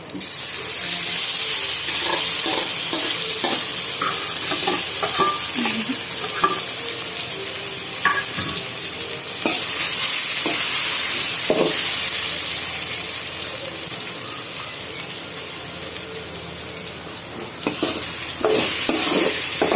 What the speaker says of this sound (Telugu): ఈ పచ్చి వాసన పోయేదాకా మనం ఈ మామిడికాయ పచ్చడిని వేయించుకోవాలి బాగా